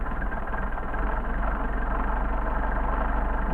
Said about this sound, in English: So what I'm doing is adjusting these carburetors to get the max RPM.